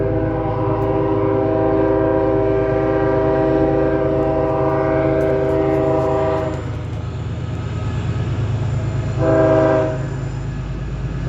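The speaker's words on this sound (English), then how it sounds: "And I got a train coming." A train passes nearby with loud, sustained blasts of its horn, the first lasting several seconds and a shorter one following, over a steady rumble of the wheels on the rails.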